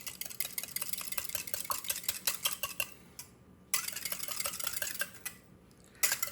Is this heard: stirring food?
yes